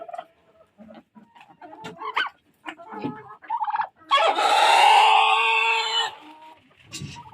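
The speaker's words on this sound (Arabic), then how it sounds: "بصوا بقى الطيور جعانة" Hungry domestic fowl cluck in scattered short calls close by, then one bird lets out a loud, drawn-out crow lasting about two seconds before the clucking resumes faintly.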